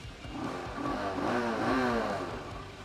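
A 2021 Lexmoto LXS motorcycle engine revs up close, its note climbing and holding in a steady, buzzy drone for a few seconds with no talk.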